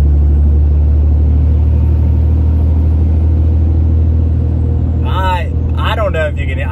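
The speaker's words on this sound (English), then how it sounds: "you really hear the turbo now" A Cummins 6.7 diesel truck fitted with an aftermarket eBay intake drives along with a loud, constant engine rumble and a faint turbo whine above it, and a voice speaks near the end.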